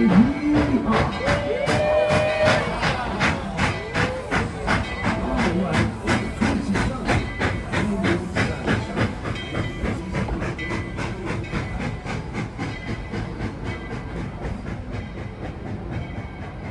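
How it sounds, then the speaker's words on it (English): A heritage railroad train rolls along the tracks with a steady clickety-clack rhythm, loud at first and gradually fading as it moves away, with some hissing. "The train returns to town for the 5 o'clock train."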